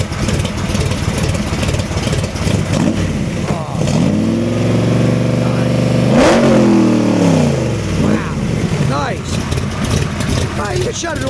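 A 427 Cobra kit car's V8 idles, then revs up off idle in a few loud blips that swell and fall back, close by, with people talking over and between the revs.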